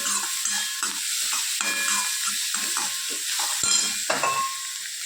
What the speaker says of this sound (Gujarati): સરસ બધો મસાલા આપણે શેકી લઈએ.